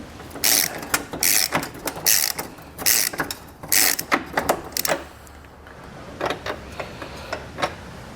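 A ratchet loosens bumper nuts on a 2018 Ford F-150, giving bursts of rapid clicking in short strokes with brief pauses between them, close and clear, then lighter, sparser clicks toward the end.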